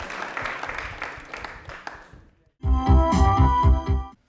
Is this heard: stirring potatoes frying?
no